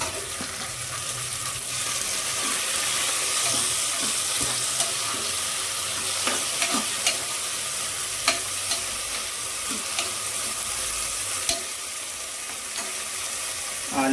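Tomatoes going into browned onions frying in a cooker for vegetable sambar, giving a steady close sizzle with repeated spoon stirring clicks and scrapes throughout.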